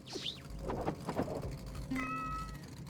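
A Van cat meows a few times in the video game Streamer Life Simulator 2, some calls high and drawn out, then a steady tonal electronic cry near the end, close and clear with no talking.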